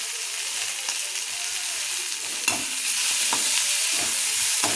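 Food sautés in a pan with a constant sizzle, while repeated stirring scrapes and taps of the utensil recur throughout, close up.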